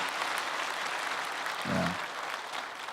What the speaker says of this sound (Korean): 찬성하시면 박수하시고요.